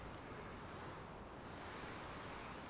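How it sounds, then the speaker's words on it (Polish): Steady wind rushing and roaring without letup in a snowy video game, a broad constant noise with no voices. "tylko szum wiatru jak na razie i jakiś spadający z drzew śnieg"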